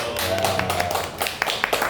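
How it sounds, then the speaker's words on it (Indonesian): An indoor audience claps for a few seconds, the hand claps fairly close and uneven, with sharper taps standing out over a low murmur of voices. "Tepuk tangan dong"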